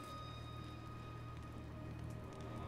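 Rain falling in God of War (2018), a soft, steady patter of drops on surfaces under faint background tones, no voices.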